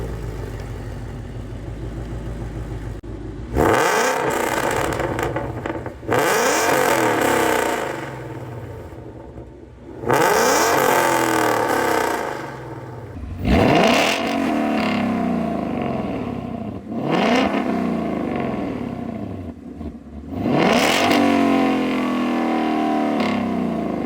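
A 2018 Ford Mustang fitted with Corsa headers and running on E85 makes repeated loud drive-bys, about five passes, each rising as it roars close and then fading away, with quieter gaps between them.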